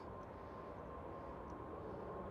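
KLM Boeing 777 airliner taking off at Amsterdam Schiphol, a steady distant roar of jet engines with no voices, holding level throughout.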